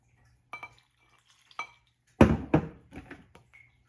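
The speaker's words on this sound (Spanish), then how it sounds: "en un platito vamos a disolver lo que es la maicena" A spoon stirs cornstarch into a little water in a small dish, with a few light clinks and scrapes against the dish, then a louder burst of rapid stirring and tapping, close and without talking.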